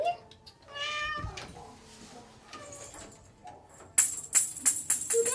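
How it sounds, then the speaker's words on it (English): Tabby cat at an animal shelter meowing loudly and repeatedly, close up, in a run of drawn-out, whiny calls, with a few sharp high clinks and clatters near the end and no clear speech. "We already said that you were one of the louder cats."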